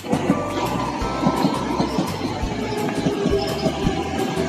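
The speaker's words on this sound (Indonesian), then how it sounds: "Wah, ada suara kereta tuh teman-teman." A train rolls past nearby, wheels clacking over rail joints in a steady rhythm beneath a continuous rumbling roar.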